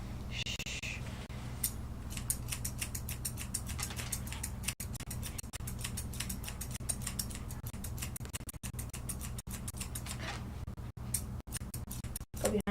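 Thinning shears snip repeatedly through a Westie's fur, a rapid run of soft metallic clicks close to the ears, with a few sharper cuts standing out against a faint background hiss.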